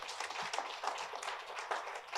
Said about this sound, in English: Can I have a big round of applause for all of you